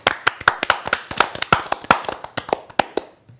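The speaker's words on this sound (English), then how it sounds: "A lot of claps" Crowd of people clapping in quick, uneven bursts, sharp and fairly close, thinning out and fading to quiet by the end.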